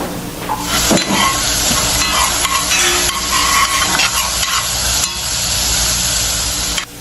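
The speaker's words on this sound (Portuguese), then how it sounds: "E vamos levar essa panela para o fogo até fritar bem, ficar bem douradinho." Three cloves of garlic frying in a pan on the stove, a steady broadband sizzle that runs continuously and loud for several seconds with no talk over it.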